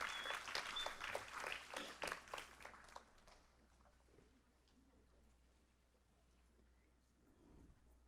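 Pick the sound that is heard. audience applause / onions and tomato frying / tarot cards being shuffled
audience applause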